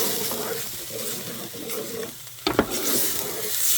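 Sloppy joe mixture cooks in a pan with a steady sizzle and stirring, then a couple of sharp clanks, and the frying noise carries on loud and near.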